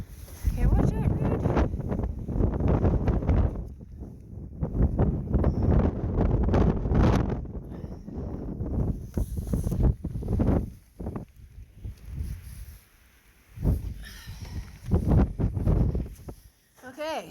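Strong wind gusts outdoors buffet the microphone in loud, broadband roaring bursts that rise and fall, with speech mixed in and brief lulls near the end.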